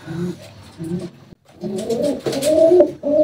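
Soft, throaty cooing of a male pigeon in repeated low rolling phrases, close by in a loft, with brief pauses between calls and a faint rustle in the background.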